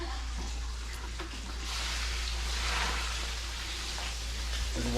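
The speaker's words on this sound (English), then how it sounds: "So the water's finished boiling, and we're just taking it and pouring it over the açaí" Freshly boiled water poured over açaí, a steady close rushing pour with a hissing wash that swells slightly mid-way and keeps going, alone without talk.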